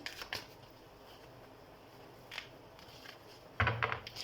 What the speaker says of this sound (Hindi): तो हम कार्ड शफल कर लेते हैं।